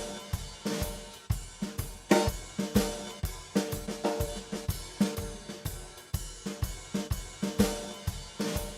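A KETRON SD90 arranger module plays drum style variation C: a steady, punchy groove of kick, snare and hi-hat hits, with fills and drum rolls. It is loud and close, and nothing else is heard.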